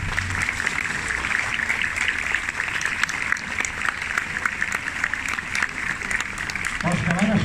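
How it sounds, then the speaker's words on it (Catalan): A crowd gives the float bearers a round of applause at the end of Tarragona's Palm Sunday Holy Week procession, with steady, dense clapping continuing throughout and voices mixed in underneath. "demano un aplaudiment per ells"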